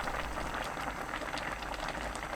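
Spanish mackerel and radish braise bubbling in a pot with sweetened soy-based sauce, a steady soft boiling hiss with faint popping bubbles, close and continuous with no voices.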